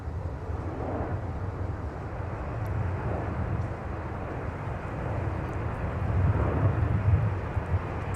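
A jet arriving at Minneapolis–St. Paul airport rumbles steadily in the distance, a broad low roar that swells slightly toward the end, with wind noise over the microphone.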